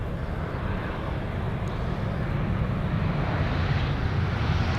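Airliner arriving on runway 18R, the Polderbaan, at Amsterdam Schiphol on a sunny day, heard as a steady, broad jet roar that holds at the same level throughout, with no talking.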